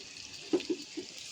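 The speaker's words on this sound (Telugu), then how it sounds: "వాటర్ పోసుకుందామండి" Water pours into a cooking pot of prawn and gongura curry with a soft, steady hiss and a few brief gurgling plops in the middle.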